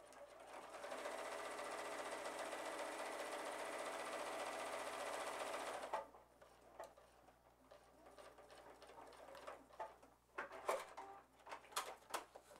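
Sewing machine backstitching a fabric basket, a steady fast mechanical whir for about six seconds, then quieter scattered clicks and handling taps, close with no talk.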